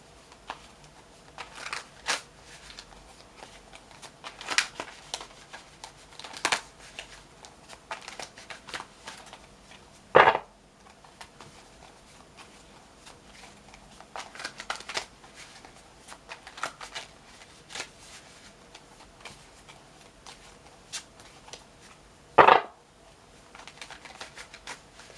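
Tarot cards being shuffled in soft, scattered bursts of riffling and patter, with a couple of sharper snaps standing out, close up and otherwise quiet.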